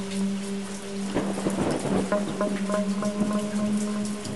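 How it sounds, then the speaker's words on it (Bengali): Light drizzling rain as a cartoon sound effect, a soft steady patter of drops with a low rolling rumble and faint tonal hum underneath, no voices. "ঝিরিঝিরি বৃষ্টি আর অন্ধকার রাস্তা"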